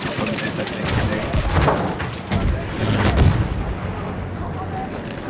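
A tank explosion in Battlefield 1, deep booming blasts and rumbling artillery-like thuds amid battlefield noise, with a voice talking over it.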